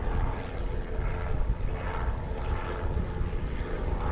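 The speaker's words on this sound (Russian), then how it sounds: "Вертушка летит." A privately run helicopter flies over snowy mountains, its rotor and engine making a steady, moderately loud droning rumble that holds evenly throughout without speech.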